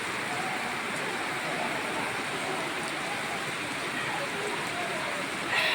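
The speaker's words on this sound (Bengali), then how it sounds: "প্রচুর বৃষ্টি হচ্ছে।" Heavy rain pours down steadily outdoors, a dense, constant hiss with a brief louder swell at the very end.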